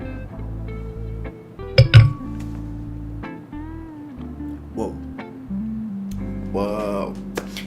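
Glasses of Scotch ale clink together in a toast, a couple of bright chimes amid quiet room sounds and faint handling noise.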